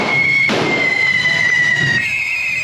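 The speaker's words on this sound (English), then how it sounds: "They load his mouth and tail with fireworks," Fireworks shoot from the mouth and tail of a fire-breathing dragon figure in a street procession at the Sitges Festa Major. The roar is loud and constant and close, with a sharp burst at the start and a steady hissing whistle over it.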